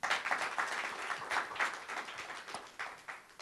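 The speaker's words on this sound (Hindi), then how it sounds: "उनके लिए ताली बजाइए।" An audience applauds the film's hero at a launch event for The Battle of Bhima Koregaon, giving a steady round of clapping that stays moderately loud throughout before tapering slightly.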